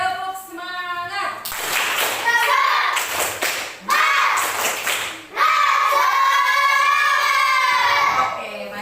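Rhythmic group clapping chant by a class of primary school children led by a teacher, loud and close, with children's voices calling along between bursts of claps.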